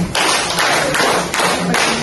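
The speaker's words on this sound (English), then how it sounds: "give a 5 claps for Miss Layson" A classroom group claps five times together, loud and close, in a steady rhythm of evenly spaced claps with no talking.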